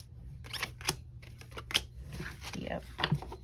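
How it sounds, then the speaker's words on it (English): Tarot cards being shuffled by hand, a series of quick crisp riffles and snaps close to the listener, mixed with a person talking softly. "I'm just shuffling to see if I get any more."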